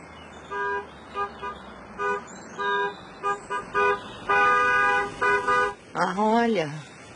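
A car pulls into a garden honking its horn in a series of short and longer toots, fairly close and loud, followed by a voice at the end.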